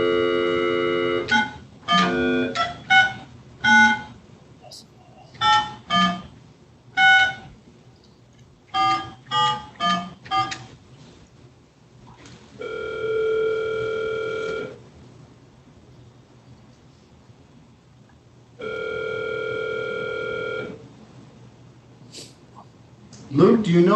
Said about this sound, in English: So let's dial her up.